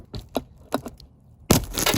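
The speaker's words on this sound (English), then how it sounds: "showing him how to break glass" Glass in a car window is broken out during window removal on an off-road project vehicle, with a few sharp cracking taps followed by a loud, sustained crunch of shattering glass.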